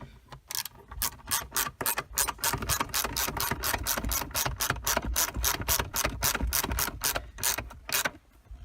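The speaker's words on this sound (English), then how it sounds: "So this is a 3/8 socket, 10 millimeter on the end." A ratchet wrench driving a 3/8-inch socket with a 10 mm end turns a bolt during a Chevy Aveo ignition BTSI solenoid repair, giving loud, fast, evenly spaced clicking strokes that run almost continuously, with no talking.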